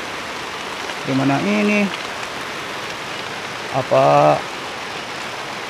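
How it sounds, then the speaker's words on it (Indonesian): Rain falls steadily on the ground in a rural field, a constant broad hiss heard throughout. Two short bursts of a person talking come through above it. "Begitu sahabat, hujan tuh sahabat."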